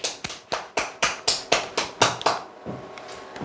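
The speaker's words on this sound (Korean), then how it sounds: "네. 박수!" A short burst of clapping, about ten sharp, evenly spaced claps from a small group or one person, close by, fading out at the end.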